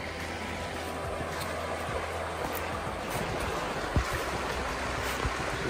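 Creek water about three feet deep flowing under a bridge, a steady, broad rushing wash heard close and continuous, with a few soft knocks.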